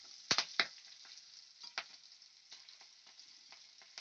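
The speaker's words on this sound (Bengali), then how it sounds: "কাঁচা লঙ্কাটা আমি ভেজে নেব" Slit green chilies frying in oil, a thin, steady close sizzle with a couple of sharp pops and crackles near the start and softer scattered spits after, no talk.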